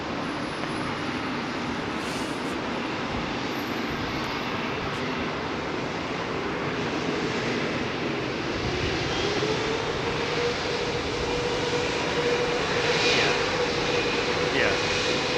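An EasyJet aircraft at London Heathrow Airport produces a continuous, moderately loud jet rumble and whine that swells slightly toward the end, heard from a distance amid airport ambience.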